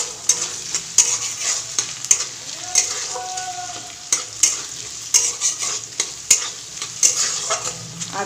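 Chopped potatoes fry in a pan under frequent spatula scrapes and knocks, a steady close sizzle broken by rhythmic stirring strikes, with a brief faint voice in the background.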